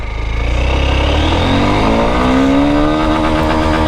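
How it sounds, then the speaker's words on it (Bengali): A Honda XBlade FI ABS motorcycle accelerates hard in first gear, engine revs climbing steadily from a low rumble to a high, strained whine, loud and close with no voices. "এক্সব্লেড এফআই এবিএস এর first second third gear top দেখা যাক। First gear"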